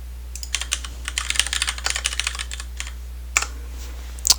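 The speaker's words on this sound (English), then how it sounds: "I'm going to go ahead and type up this example into a file here" Code is typed on a computer keyboard in quick irregular bursts of close clicking keystrokes, a pause, then a few more scattered taps over a low steady hum.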